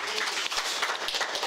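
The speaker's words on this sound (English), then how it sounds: "Give another round of applause for Casey and all the comrades in the Midwest region." Steady, dense clapping from a convention audience at the Uhuru Solidarity Movement National Convention, continuous and even throughout with no talk on top.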